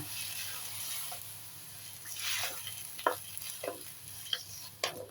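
Beef and tomato in a pan gently bubble and sizzle after water is poured in, with a soft steady simmer broken by a few sharp spoon scrapes and clinks against the pan.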